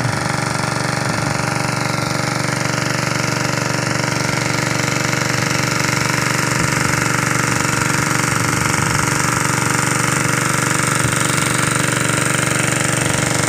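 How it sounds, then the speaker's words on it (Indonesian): A bore well drill pipe grinds through very hard rock beneath a rice field in the dry season, giving a loud, steady mechanical roar with a rattling, hammering texture that runs unbroken throughout. "Dan ini menemukan padas yang sangat keras sehingga pipa bor sangat sulit untuk menembus"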